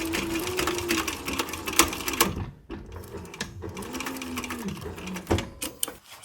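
A sewing machine stitches leather pillow panels, a steady close mechanical whirr with rapid needle clatter that pauses briefly and restarts, with faint talk underneath.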